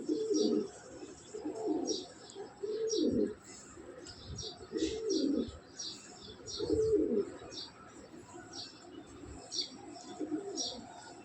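Racer pigeons coo in repeated soft low phrases at close range, mixed with high chirps from other birds in the loft, with no talk over them.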